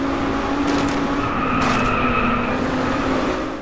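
An Audi R8 V10 Coupé Plus races in DRIVECLUB on a rainy Scotland track, its engine a steady, moderately loud drone with a brief burst of tire noise near the middle, no talk over it.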